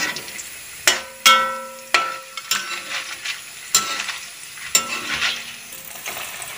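Breadfruit chips crackle and sizzle steadily in hot coconut oil, close and loud, with several sharp metallic clanks from a slotted spoon scooping them against the pan.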